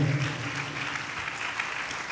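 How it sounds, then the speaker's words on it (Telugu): A church congregation claps together in praise during a sermon, a short, soft burst of steady applause. "అందరం చప్పట్లు కొట్టి దేవుడు మహింపరుద్దాం గట్టిగా"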